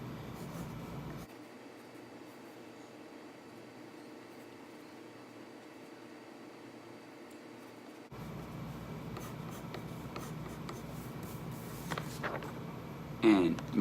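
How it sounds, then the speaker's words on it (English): A pencil sketches a tree on paper, making steady scratchy strokes close to the microphone over a low background hum, with the strokes growing busier toward the end. "if I was to just draw a tree like this"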